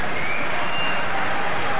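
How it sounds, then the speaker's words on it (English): Bowling crowd at the 1999 American Bowling Congress Masters roaring in a dense, steady wash of cheering, clapping and foot stamping that fills the whole moment without letup. "the crowd's going absolutely wild. They're banging their feet, they're clapping their hands"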